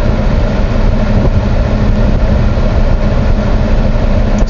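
A 2022 Peterbilt 567 truck with a 605 hp Cummins X15 engine accelerating through the gears, a loud, steady, low diesel drone heard from inside the cab, continuous and unbroken throughout.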